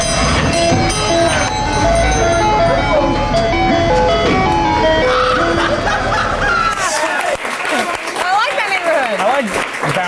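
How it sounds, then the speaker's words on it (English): An ice cream truck blares its tinkly melodic jingle loudly and steadily for several seconds, then laughter, chatter and applause take over. "You know you live in the ghetto when your ice cream truck driver is bumping, does your chain hang low?"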